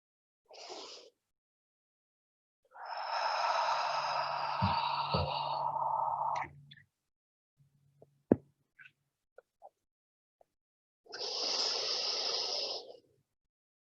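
Slow, deep breaths during meditative chair yoga, each long airy inhale or exhale separated by quiet pauses, close and soft with a few small clicks between them.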